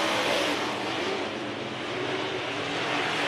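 Dirt track race cars come off turns 3 and 4, a dense, continuous engine roar heard from a distance, steady and fairly faint, with no talking.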